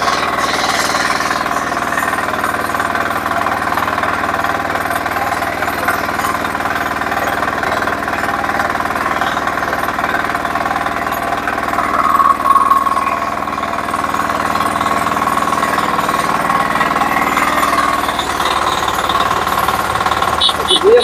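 A power tiller's engine runs steadily and loudly nearby, a continuous rattling, thumping drone that holds an even level throughout without stopping.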